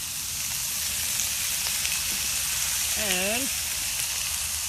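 Seasoned finger food sizzles and fries steadily and close in a pan as it is flipped with a spatula. A short voiced word is heard over the constant crackle.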